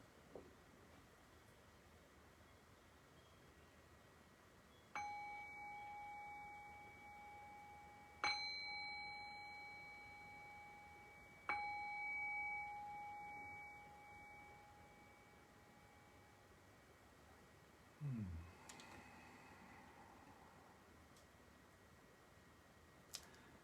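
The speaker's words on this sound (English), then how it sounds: "I'll cue that by ringing the bell 3 times." A meditation bell rings three times, about three seconds apart, each a clear, bright tone that hangs and fades against a quiet background hiss.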